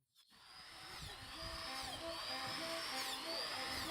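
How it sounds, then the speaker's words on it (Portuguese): A power drill bores holes into wooden logs prepared for Japanese shiitake mushroom cultivation. Its whine rises and settles into a steady, close, moderately loud drone after a quiet start. "A primeira coisa a ser feita é fazer os furos na madeira."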